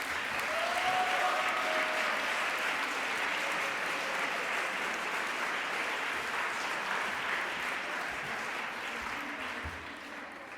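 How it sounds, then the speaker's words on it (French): Steady applause from the audience at a Quebec student entrepreneurship contest gala in Montreal, a broad even roar of many hands that stays strong for the whole stretch and fades slightly toward the end. "je voudrais qu'on donne une belle main d'applaudissement à tous les responsables qui ont appuyé."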